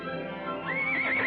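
A thoroughbred horse whinnies in a rising, wavering neigh during the second half, over a steady bed of low hoof clatter and background noise; no one speaks.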